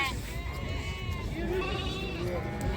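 Male lambs bleat at a sheep and goat livestock bazaar, wavering cries rising over a busy crowd and the talk of nearby people.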